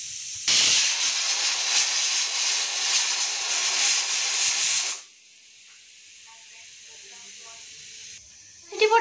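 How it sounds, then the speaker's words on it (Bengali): A pressure cooker on the stove releases steam in a loud, continuous hiss for about four seconds, then drops away to a faint background hum with a brief sound returning at the end. "ভাই প্রেশার কুকারে বোধহয় সিটি উঠছে"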